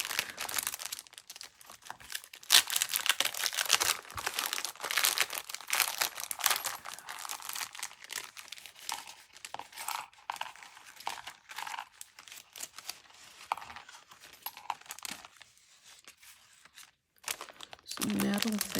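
Paper packaging around a haul of thrifted craft supplies is unwrapped and crinkled, with continuous close rustling, crumpling and tearing for a long stretch while someone talks quietly over it.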